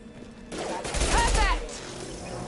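Gunfire erupts in the video game Mass Effect 2, a short burst of loud shots with a swooping tonal effect, standing out briefly from quieter background sound.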